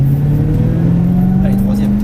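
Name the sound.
car accelerating on race circuit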